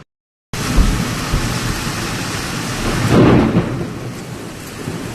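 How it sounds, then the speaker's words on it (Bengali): A Kalbaishakhi thunderstorm: loud steady rain pours down while a deep rumble of thunder swells midway and fades, after a brief silent start with no voices. "কালবৈশাখী ঝড় হচ্ছে"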